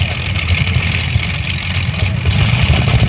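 Twin-engine pulling tractor at a tractor pulling festival, both engines revving high with a loud, steady roar that stays dense and continuous throughout.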